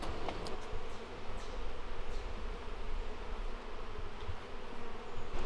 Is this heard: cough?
no